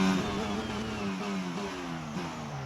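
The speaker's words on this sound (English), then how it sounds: "I've got to listen to that little whine all season long." A Red Bull-engined Formula 1 car in the racing game F1 22 gives a steady, high, buzzing engine whine. The pitch climbs and drops slightly through gear changes, clear and alone, with no talk.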